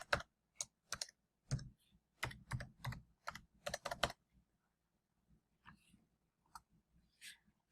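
Typing on a computer keyboard, close and quiet: irregular bursts of crisp key clicks for about four seconds, then a few sparse, softer taps with pauses between.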